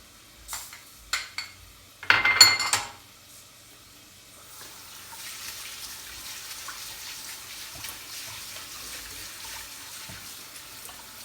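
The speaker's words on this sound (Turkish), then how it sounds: "ben hemen mercimeğimi, pirincimi ve çok az e, miktarda olan arpa şehriyemi de yıkayacağım iyice" Lentils, rice and a small amount of orzo are rinsed in water: a few sharp clatters and a brief splashy burst, then a steady swishing, running-water wash continuing to the end.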